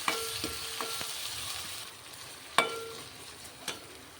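Chopped onion with ginger-garlic paste fries in a pan, a steady soft sizzle broken by a few sharp clinks and scrapes of stirring, close and without speech.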